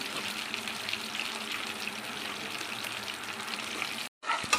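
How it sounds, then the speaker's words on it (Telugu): Green chillies fry in hot oil in a pan for a tomato pachadi, giving a steady, close sizzle that runs unbroken, briefly cuts out, then returns with a few spattering pops. "పచ్చిమిర్చి వేసుకొని ఫ్రై చేసుకోవాలి."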